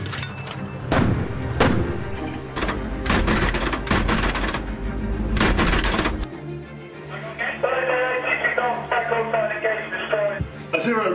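Gunfire during a British Army training exercise, with a string of sharp, loud reports in the first six seconds followed by quieter activity and background noise.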